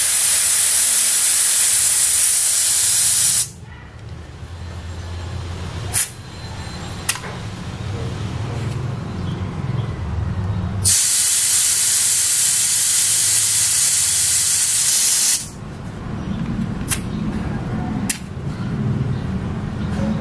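Air hisses loudly out of an Easyride 150 P motorcycle tire valve as the pressure is lowered, two long bright bursts several seconds each separated by short quiet gaps with small clicks from the gauge.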